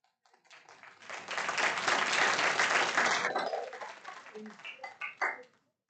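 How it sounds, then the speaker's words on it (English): Audience applause at a city council public hearing in North Augusta: a swelling wash of clapping that holds steady for a couple of seconds, then thins into a few scattered claps before stopping, with some voices mixed in. "I never expected a round of applause tonight."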